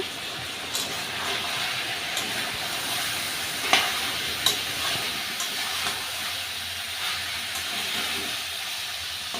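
Meat cooking in a kadai gives a steady, fairly quiet sizzle and hiss with occasional soft stirring scrapes and small pops, close by, with no talking.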